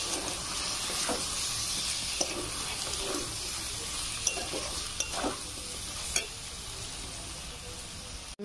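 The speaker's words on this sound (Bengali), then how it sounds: "আলুটা দিয়ে আমি ফের 5 মিনিট কষবো।" Large cut potatoes are stir-fried in a pan, a continuous close sizzle with repeated spatula scrapes and stirs landing every second or so.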